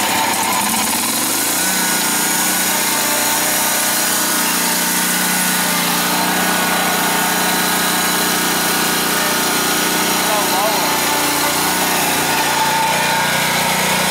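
A Great Dane Super Surfer 36-inch mower engine runs steadily after being cranked, a loud continuous drone with a revving swell at the start and another near the end, no voices over it.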